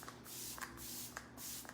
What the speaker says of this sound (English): I will just spray it as it is